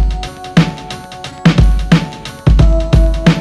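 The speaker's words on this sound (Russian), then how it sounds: "А теперь давайте запишем клавесин." A harpsichord plays in Ableton Live with warped swing timing, giving loud, plucked note clusters in an uneven, lilting rhythm over a thumping kick, alone without any voice.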